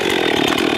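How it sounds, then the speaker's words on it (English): A chainsaw runs close and loud at a steady high-revving drone, held by a nervous first-time user outdoors at a lake camp, a continuous buzzing whine with slight wavering and no voices over it. "This is the first time I have used a chainsaw"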